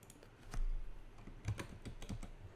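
Typing on a computer keyboard comes in a short burst of close, crisp key clicks at an uneven pace, with no voice over them.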